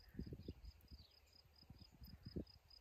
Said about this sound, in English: there are crickets and grasshoppers everywhere